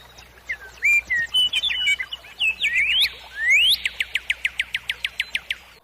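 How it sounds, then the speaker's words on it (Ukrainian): A nightingale sings nearby, loud and clear: varied whistled and warbled phrases followed by a rapid run of repeated, evenly spaced notes, with no voices. "Чи сподобалось вам, як щебече соловейко?"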